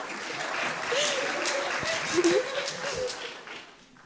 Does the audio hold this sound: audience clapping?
yes